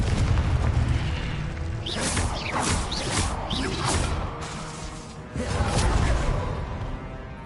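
Confringo blasting spells exploding in a Harry Potter-style video game, a series of loud, heavy booms and crashing bursts with whooshing tails, one after another over a constant dense rumble.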